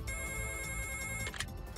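A telephone rings in a Hindi children's cartoon, a steady electronic ringtone tone that sounds alone and fairly loud before cutting off near the end.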